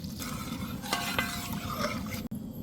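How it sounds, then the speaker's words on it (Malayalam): Coconut milk pressed from three coconuts is poured into well-roasted spice powder in a pan for a sardine dish, giving a steady, fairly soft sizzle and bubbling with a couple of brief stirring clinks. "നമുക്ക് തേങ്ങാപ്പാൽ ഒഴിച്ചു കൊടുക്കാം മൂന്ന് തേങ്ങയുടെ പാലാണ് ഒഴിക്കണേ"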